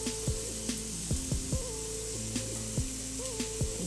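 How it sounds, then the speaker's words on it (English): Chicken breasts sizzle and crackle in a hot skillet, a steady frying hiss with occasional utensil taps and clinks close by. "That sound, that sizzle sound is music to my ears"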